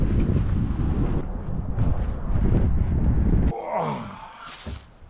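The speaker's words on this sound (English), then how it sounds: "The wind's picking up and the temperature's dropping." Cold winter wind blows outdoors on a camping trek with a handcart, roaring and buffeting the microphone in loud gusts, then dropping off abruptly to quieter rustling and a faint voice-like sound.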